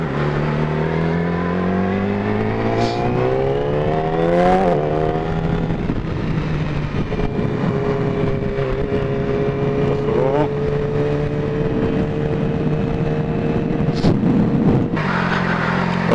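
Yamaha R6 2017 sport motorcycle fitted with an exhaust baffle, ridden through the town of Carcassonne: the engine climbs in pitch through the gears, shifts and settles into a steady drone, loud and close throughout.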